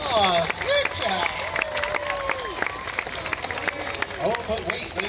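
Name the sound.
audience applause for dancers at a park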